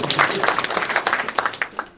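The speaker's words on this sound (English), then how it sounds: "Can we clap for them?" A university audience claps at a joint faculties event, a dense patter of many hands rising and falling in waves for about two seconds, moderately loud and close.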